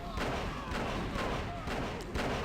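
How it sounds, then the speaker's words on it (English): Rumbling explosions and artillery fire from the real-time strategy game OpenRA, a dense barrage of repeated booms and thuds rolling on continuously, with a voice talking over the battle. "This explosion's gonna kill Tanya"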